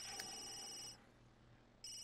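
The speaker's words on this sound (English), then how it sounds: "Answer your stupid phone." In The Sims 3 a phone rings in loud electronic trills that cut off, pause for about a second, then start again, with no talk over it.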